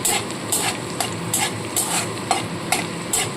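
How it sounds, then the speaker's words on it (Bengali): Chopped onion and tomato frying with lightly fried garlic for a Bengali begun bhorta, stirred in a pan: a steady close sizzle broken by regular scraping strokes about every half second. "রসুনটা একটু হালকা ভাজা ভাজা করে নিয়ে এর মধ্যে দিয়ে দেবো পেঁয়াজ আর টমেটো কুচানো"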